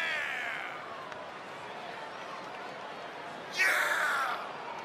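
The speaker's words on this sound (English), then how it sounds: "And Michael, it sounds to me like this crowd already picked the one who they want to win this match" An arena crowd roars in the wrestling video game WWE 2K20 during a Raw Money in the Bank qualifying match. The steady, distant roar surges suddenly into a louder cheer near the end.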